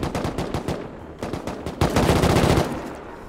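Rapid automatic gunfire from auto turrets in the survival game Rust, loud close bursts of rattling shots that pause briefly, then resume denser and heavier, with no talking over them.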